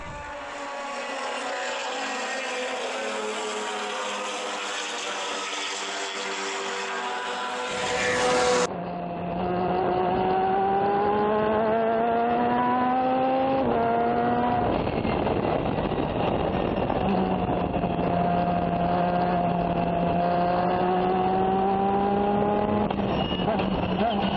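A Formula Atlantic race car on track at Sonoma Raceway, its engine heard onboard as a loud, steady high-revving roar with rising pitch sweeps through the gears and a sharp shift partway, continuous and close throughout.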